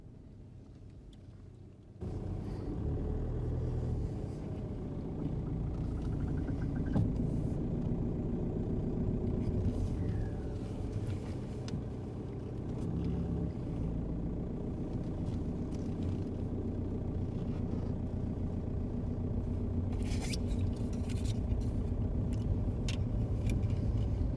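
Engine of a car running steadily through a driving lesson, a continuous low rumble that holds for the whole stretch with a few faint clicks and rattles, no talk over it.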